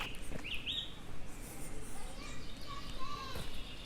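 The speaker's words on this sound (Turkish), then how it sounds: "kuş sesleriyle" Birds sing at a campsite: a few faint chirps and short whistled calls rise over a busy outdoor background with distant voices.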